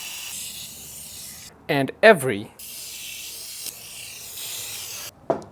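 Bursts of hissing spray onto a car tail light housing, close by, interrupted by a brief spoken phrase, then more spraying with a short final spurt.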